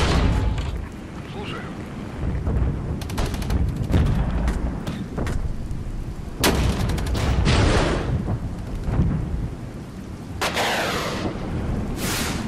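Guns fire in the Regiments war game, with repeated sharp cracks and booming shots at irregular intervals. Some are close and some are distant, over a dense battlefield rumble, and someone talks over it.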